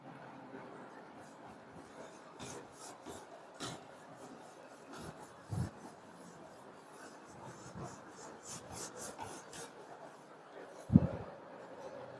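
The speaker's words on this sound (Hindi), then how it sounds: "अब मैं इसको रब कर रहा हूं" An eraser rubbed over handwritten maths working, giving a steady dry scratchy rasp in short repeated strokes, close up, with a couple of louder knocks near the end.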